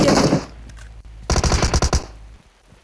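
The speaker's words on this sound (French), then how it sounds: "en plus on se fait tirer" Video game gunfire comes in two bursts: a short rattle of shots, a pause, then a longer rapid machine-gun volley, loud and close, with no talking over it.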